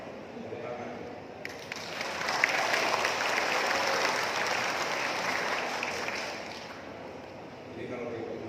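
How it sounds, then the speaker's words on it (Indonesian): Audience applause during a deputy social affairs minister's working visit in Indonesia, a broad crowd clapping that swells in the middle and lingers, with some voices mixed in. "Tepuk tangan."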